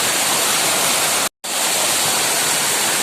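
Steady, loud roar of a waterfall at a secluded meditation spot, continuous broadband rushing water that cuts out briefly near the middle before resuming.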